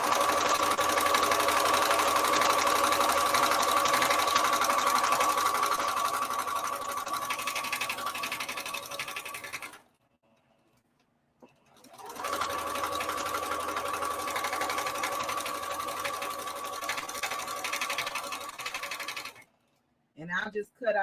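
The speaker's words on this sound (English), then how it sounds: "I'm just gonna continue to sew and try to back stitch a couple of times in that area" A sewing machine runs close by, stitching and back-stitching the pocket seam of a scuba-fabric skater skirt in two long steady runs separated by a brief pause, ending with a couple of short bursts.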